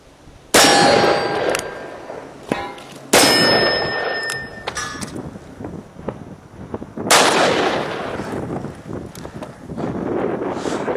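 Full-power Magnum loads fired from a Taurus .44 Magnum revolver outdoors: three loud, sharp reports spaced a few seconds apart, each with a ringing decay and some wind noise between shots.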